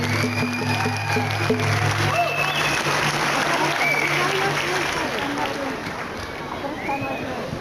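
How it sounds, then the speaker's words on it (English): A crowd claps steadily at an Idle No More gathering in West Edmonton Mall, dense applause echoing through the large indoor space for several seconds and slowly thinning, with faint whoops and a low hum beneath. "Everybody give them a big round of applause for coming out this way."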